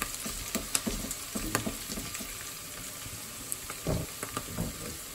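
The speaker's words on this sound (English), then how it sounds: "Saute until they're aromatic." Onion and garlic sauté in a pan for mongo guisado with pork, a soft continuous sizzle under regular scraping strokes of a spatula, close and moderately quiet, with no voices.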